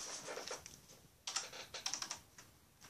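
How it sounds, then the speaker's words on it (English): Typing on a computer keyboard while entering a web search, with quick bursts of light key clicks separated by short pauses, close and clear with no talking. "you want to type in Wii Brew"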